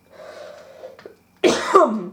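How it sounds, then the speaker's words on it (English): A single sharp, explosive cough bursts out near the mic after a brief murmur and a short pause. "Just need to cough."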